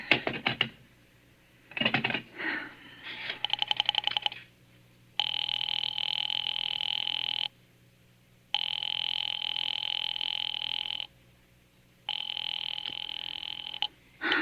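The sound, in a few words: telephone dialing and busy line, radio drama effect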